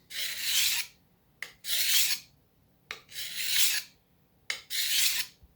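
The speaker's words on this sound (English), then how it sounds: "what I'm doing is I'm filing it down to get past that chipping area because we want to use this for our butchering" A file scrapes along a chipped steel knife blade being readied for butchering a goat, in four long rasping strokes separated by short pauses and brief quick touches, close and clear with no talking.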